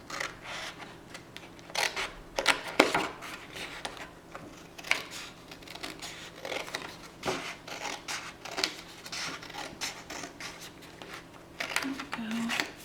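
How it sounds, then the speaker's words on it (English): Scissors cut through card paper for a treat box in a series of quiet, irregular snips and rustles close by, with handling noises between them. "And I'll just cut up here."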